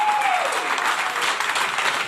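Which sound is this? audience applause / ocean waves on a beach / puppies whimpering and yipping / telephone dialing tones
audience applause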